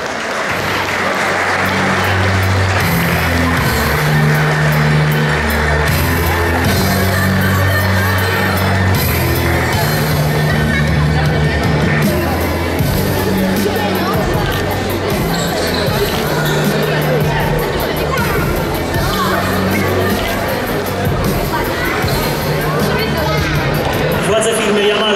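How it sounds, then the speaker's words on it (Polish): An audience at an anniversary event for a knights' club at Rydzyna Castle gives steady, continuous applause that lasts throughout, with a voice speaking over the clapping and some crowd murmur. "nieśmiałe te brawa, ale one mogą być głośniejsze"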